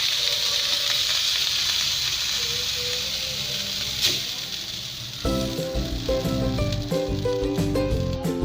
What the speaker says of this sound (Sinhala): ඉතින් මම දැන් අපේ රත් වෙච්ච රොටි තැටියේ බටර් ටික මේ විදිහට ගා ගන්නවා.